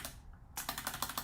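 Quick bursts of keystrokes clatter on a computer keyboard, quiet and close, with a short pause before a rapid run of taps.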